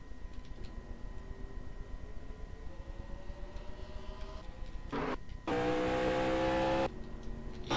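A race car in a racing video game, running a Volvo challenge at Yas Marina under caution, holds a steady engine drone whose pitch climbs, then briefly roars loud and strained as it speeds up before settling back.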